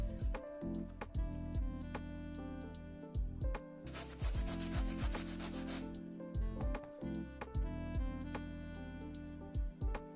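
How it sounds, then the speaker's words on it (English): Half a pumpkin is rubbed against a grater in repeated rhythmic rasping strokes, close and fairly loud, with a short stretch of denser scraping in the middle. "I need some shredded pumpkin, so I'm going to grate the other half."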